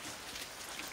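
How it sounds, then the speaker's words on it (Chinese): Rain falls steadily outside beside a sheltered outdoor cooking area at a village home, a soft continuous hiss of drops on surfaces, faint and even throughout with no speech. "下雨的，现在在下雨的呀，外面有下雨"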